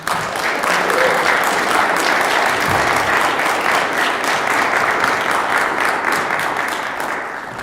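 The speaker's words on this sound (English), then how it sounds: "I'd love if we could give Mason one more round of applause" A full audience at a senior capstone presentation event gives a student presenter a sustained, loud round of applause, a thick wash of clapping holding steady for several seconds before easing slightly at the end.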